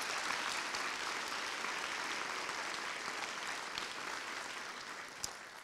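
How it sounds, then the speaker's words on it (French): A theatre festival audience applauds steadily, dense clapping throughout that holds at an even level, slightly distant. "Je crois qu'on peut les applaudir."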